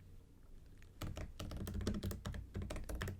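Computer keyboard typing while writing screenplay dialogue: after a quiet start, a dense, steady run of close, crisp keystrokes continues without speech.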